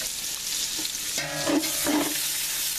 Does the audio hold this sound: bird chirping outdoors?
no